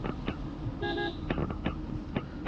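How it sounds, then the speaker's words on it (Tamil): One short car horn honk sounds over a steady rumble of a running vehicle and road noise, on a forest hairpin-bend road from Valparai to Athirappilly. "ஹார்ன் அடிச்சுப்போம்"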